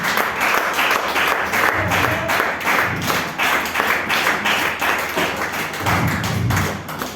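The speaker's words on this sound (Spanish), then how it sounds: "Den una ofrenda de palmas a Dios." A church congregation claps their hands together in a loud, sustained burst of applause with a steady rhythmic pulse, close and full for several seconds.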